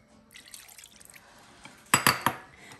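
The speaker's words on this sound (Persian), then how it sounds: "اینا را با هم مخلوط میکنیم که خوب با هم میکس شوند و آب هم بهش مندازیم" Water is poured into a bowl of dough mixture for homemade Afghan mantoo, faint trickling and splashing ending in a few sharper wet slaps close by.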